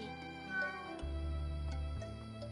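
Cat meowing from the animated film Coraline, a clear drawn-out meow with tonal wavering over a soft underlying score, close and fairly quiet.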